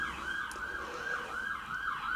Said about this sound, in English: from time to time an ambulance will depart and you'll hear it